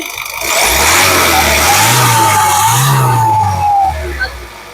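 A 2017 Honda WR-V VX petrol engine is revved twice, rising and falling each time over a steady idle, loud and close, then settling back.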